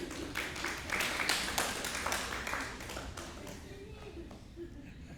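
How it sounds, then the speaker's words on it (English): Ladies in a lecture audience clapping, a fairly faint scattered patter of hand claps that swells briefly and then thins out to a few taps. "Ladies, clap."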